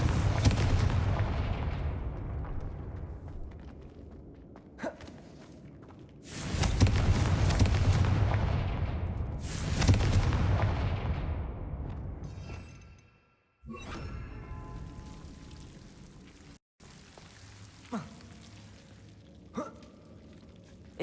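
Repeated Confringo explosive spell blasts in Hogwarts Legacy, a fantasy video game, three or four loud booming bursts with long decaying whooshes, a final sharper crack, and no talk.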